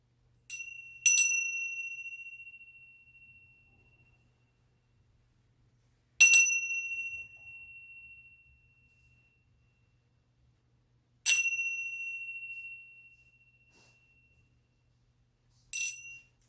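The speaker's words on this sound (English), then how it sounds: "I'm going to do 3 loud chimes to cleanse our energy" Three loud, clear chimes rung to cleanse energy, each a bright metallic ding that rings out and slowly fades into silence, evenly spaced about five seconds apart with a fourth strike beginning at the end.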